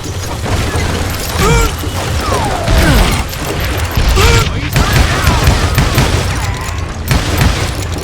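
Gunfire in the Western shooter game Call of Juarez: Gunslinger, heavy booming shots and mechanical clatter in a dense, continuous mix, with voices talking over the action.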